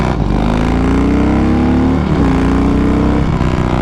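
A Harley-Davidson Softail with a Milwaukee-Eight engine and Bassani True Duals exhaust cruises at a steady 3,000 RPM, its loud, continuous deep exhaust drone filling the recording, with slight pitch shifts as the throttle varies.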